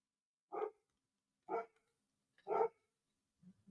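Dogs barking outside, three separate distinct barks about a second apart, faint and distant, with a softer low yelp at the end and no talking.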